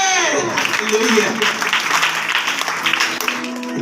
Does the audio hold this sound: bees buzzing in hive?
no